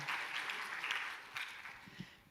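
Steady applause from a crowd at a church youth camp opening ceremony, fairly faint and continuous, with a few slightly louder bursts of clapping throughout.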